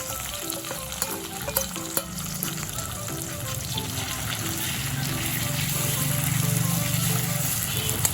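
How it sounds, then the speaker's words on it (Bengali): Ground spice paste frying with potatoes in a pan for a Bengali koi fish curry, a steady loud sizzle with spoon stirring and scraping that swells toward the end, with talk over it. "ভালো করে মশলাগুলো কষিয়ে নেব।"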